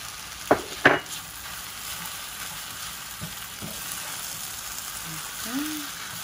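Potatoes seasoned with salt and black pepper fry in a pan with a steady, moderate sizzle, opened by two sharp utensil clacks and followed by softer stirring scrapes.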